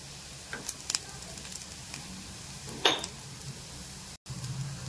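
Red chilies fry in hot oil for raw mango chutney, a soft, steady sizzle with a few faint clinks of a spoon against the pan and one sharp scrape near the end.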